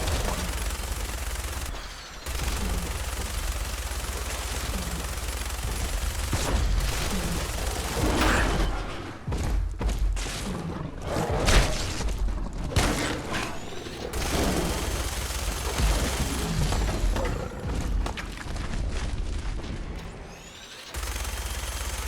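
A minigun firing at a Deathclaw in Fallout 4 VR, with loud sustained bursts of rapid gunfire, booms and mechanical whirring, broken by short pauses.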